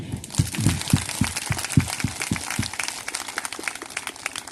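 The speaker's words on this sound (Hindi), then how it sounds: "प्रभु के लिए ताली बजाइए" Church congregation clapping for the Lord, a run of sharp, fairly distinct claps that thin into scattered, lighter clapping, moderately distant.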